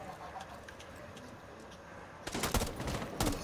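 Rainbow Six Siege gunfire, a burst of sharp shots near the end following a quieter stretch of game ambience, with a couple of loud cracks close together.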